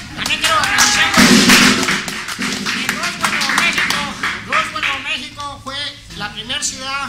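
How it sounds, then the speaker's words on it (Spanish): Studio audience on a Mexican-style TV variety show clapping in a brief burst of applause that fades as someone speaks over it. "un aplauso por favor"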